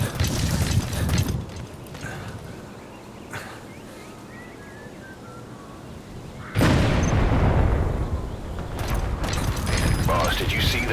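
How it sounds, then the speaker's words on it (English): Explosion in the video game Metal Gear Solid V: The Phantom Pain after a target's vehicle crashes; a sudden loud broadband blast partway through that holds as a sustained roar, following quieter mechanical game sounds. "Boss, did you see that explosion?"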